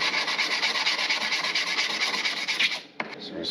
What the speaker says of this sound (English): put down some 150 and just kind of finish this off